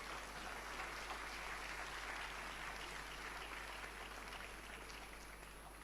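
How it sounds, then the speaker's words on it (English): Sustained applause from an audience at a Ghana Cedi anniversary celebration, a steady wash of clapping that holds evenly for several seconds and tapers only slightly toward the end. "A round of applause."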